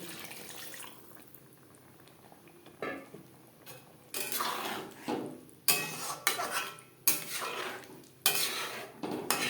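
A spoon stirs chicken curry for biryani in a metal pot over a high flame. It starts with quiet scraping, then builds to repeated loud clanks and scrapes against the pot in close, irregular bursts.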